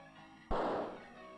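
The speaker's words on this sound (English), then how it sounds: "When that firecracker went off" A single firecracker bursts with a sudden loud crack, followed by a short, noisy rush that fades within about half a second back to faint background hum.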